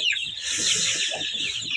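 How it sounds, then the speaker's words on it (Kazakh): A broody Kuchin hen clucks close by in a short run of low, evenly spaced notes under a steady bright hiss. "менде кучинский тағы бір тауық күрік болған"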